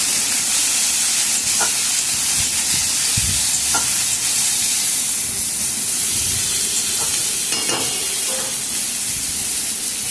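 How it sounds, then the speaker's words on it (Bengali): Sliced bitter gourd stir-fried with onion in a pan, a dense, loud hissing sizzle throughout with occasional scraping stirs, no talking. "পেঁয়াজের সঙ্গে উচ্ছেটা ভালো করে আমি মিশিয়ে দিয়েছি।"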